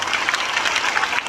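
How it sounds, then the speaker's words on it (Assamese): A crowd at a public gathering claps loudly and continuously, a dense burst of hand claps filling the short stretch with no voices. "লাগে যদি একবাৰ হাত চাপৰি দিয়ক জোৰদাৰ"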